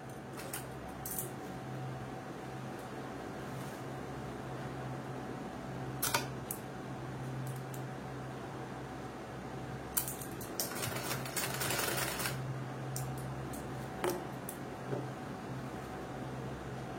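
A sewing machine stitches two pieces of cloth together for a semi-patti pant, running in short quiet bursts with a few clicks over a steady background hum.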